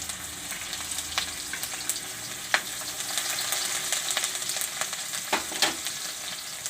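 Garlic and green chillies sizzle in hot oil with cumin and asafoetida in a pan, a steady close frying hiss with occasional stirring clicks and spatters, no talk.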